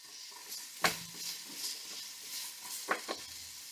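Carrot sautéing in a pan over medium heat, a soft steady sizzle with a few sharp clinks and scrapes of a utensil stirring against the pan, fairly quiet and with no talking.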